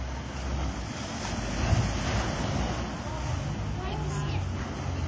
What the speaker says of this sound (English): That's weird how the waves just started coming in like that.